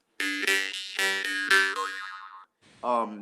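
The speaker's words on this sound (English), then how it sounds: "the jaw harp is one fundamental note, but you can kind of play with that note" Twangy, buzzing jaw harp notes plucked in a quick rhythmic series, the resonance bending and sliding in pitch, loud and close, with a short pause before a final twang.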